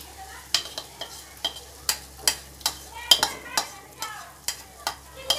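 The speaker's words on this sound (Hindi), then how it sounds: "अब हम इसमें ये पालक ऐड करेंगे।" Spinach stirred into sizzling masala in a pan for palak paneer: a steady low frying hiss broken by about a dozen regular scraping stir strokes, close and clear, with no talking.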